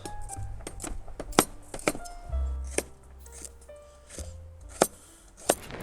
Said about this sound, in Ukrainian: Моркву нарізаємо з вами кубиком.